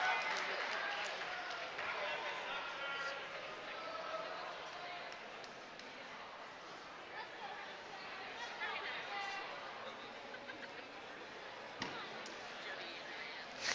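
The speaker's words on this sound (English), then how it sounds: "Crowds cheering." Crowd cheering and clapping at the finals of a provincial lead and top rope climbing competition, a steady broad roar of voices sustained throughout with scattered shouts and a sharp clap near the end.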